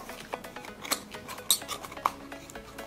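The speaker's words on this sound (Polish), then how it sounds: "Wezmę tutaj nożyczki." Scissors snip at a puzzle cube box, a few sharp close clicks and cuts spaced irregularly over quiet handling noise, with no talking.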